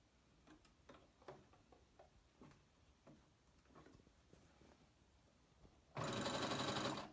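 A sewing machine stitches a T-shirt dress, running a long gathering stitch a quarter inch in: a faint ticking needle pattern comes first, then a loud, steady whirring burst near the end.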